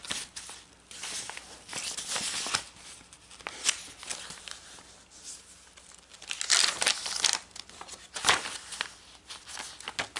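Soft fabric and paper pieces for a purple fabric-covered junk journal insert are handled close up, with repeated crinkling, rustling and brushing, busy and uneven throughout.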